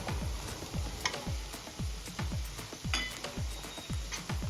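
Capsicum and vegetables are sautéed in a pan for masala Maggi, with a soft sizzle under regular scraping and stirring strokes at a steady rhythm of about two per second.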